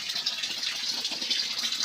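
Water pours steadily from an outdoor village spout, a continuous close splashing gush with no talk.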